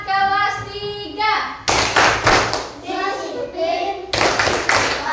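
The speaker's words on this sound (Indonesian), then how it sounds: "Tepuk semangat kelas 3." Third-grade children in a classroom perform a rhythmic group clapping routine, bursts of loud unison claps alternating with chanted words in children's voices.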